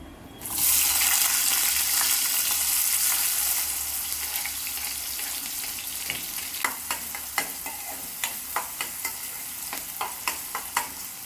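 Chopped onions and green chillies drop into hot oil with cumin, bursting into a loud sizzle that eases into steady frying, followed by a run of rhythmic stirring scrapes, close up.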